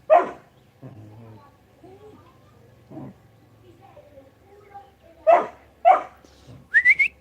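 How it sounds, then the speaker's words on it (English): A dog barks indoors in short, sharp bursts at irregular intervals, some yelping and whimpering, moderately close, with a faint low hum and voices in the background. "Around this time, my dog start barking."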